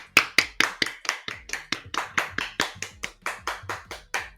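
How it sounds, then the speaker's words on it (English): One person claps alone in a steady, even rhythm, about four or five crisp claps per second, close and clear with no voices. "I had a round of applause back there"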